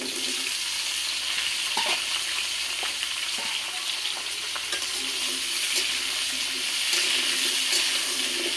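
Cut potatoes and flat bean pieces fry together in a pan with a continuous close sizzle and a few faint stirring scrapes. The sound stays even and unbroken, with no speech.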